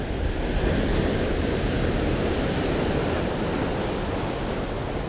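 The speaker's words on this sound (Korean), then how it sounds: "만조가 가까워지면 가까워질수록 파도도 세지고 바람도 세지고" Ocean surf and strong wind roar together at a Sydney rock fishing spot as the tide rises toward high water, a loud, constant wash of breaking waves and gusts with no voices.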